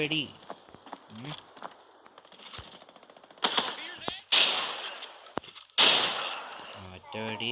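Gunfire in the video game Arena Breakout, a few sharp loud shots in the second half after quieter movement sounds, with a voice talking over the early part.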